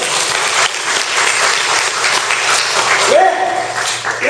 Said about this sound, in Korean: 박수 한번 다시